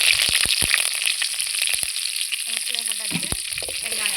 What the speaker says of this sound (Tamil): இப்போ வந்து பட்டை, கிராம்பு, லவங்கம் எல்லாம் போட்டுக்கலாம்